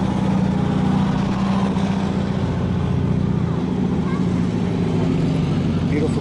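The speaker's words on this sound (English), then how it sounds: "Got some engines in the background, which is perfect for muting the music." Engines of classic Dodge and Plymouth cars running at an outdoor car show in Southwest Florida, a continuous loud rumbling drone with steady low hum throughout, no pauses.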